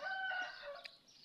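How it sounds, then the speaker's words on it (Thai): Chickens and wild birds in a forest setting: high, sustained bird calls and chirps mixed with faint fowl sounds, moderately quiet and distant-sounding, no talking. "มีไก่มีเสียงนก"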